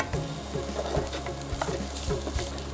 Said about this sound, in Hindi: इसको हम सौटे करेंगे